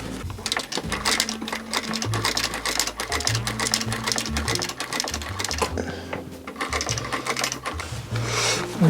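Sewing machine stitching a disassembled shoe back together, rapid mechanical clatter in bursts with brief pauses, close and fairly loud, with occasional quiet speech.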